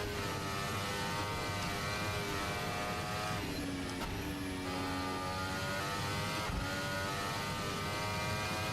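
F1 car engine in a racing simulator game on the Hanoi Grand Prix circuit, a loud continuous high-revving whine climbing in pitch through the gears, with brief dips at shifts around mid-clip, no talk.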